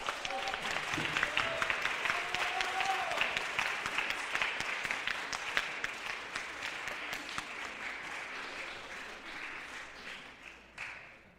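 Sustained applause from a church Sunday school summer camp audience honouring the camp team, dense steady clapping that fades out toward the end, with a faint tone near the finish.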